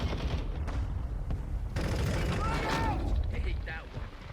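Bursts of gunfire and mechanical clatter from a Warzone 2.0 battle royale match on Ashika Island, fairly quiet and mixed with game voice callouts, with a few sharp shots crackling near the middle.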